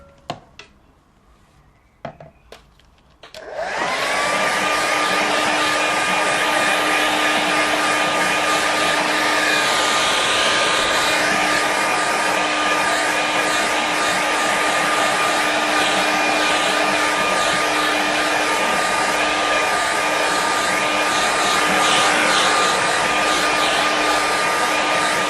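Hair dryer drying a watercolour painting on a board: a few faint knocks, then the dryer switches on and blows as a loud, steady whine with a constant hum for the remainder.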